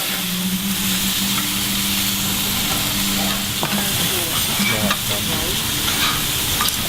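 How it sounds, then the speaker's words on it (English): Tteokgalbi minced meat patties sizzle steadily on a tabletop griddle in a traditional-style restaurant, a continuous close frying hiss with faint clinks of utensils and no talk. "떡갈비, which is minced meat and then fried on the griddle"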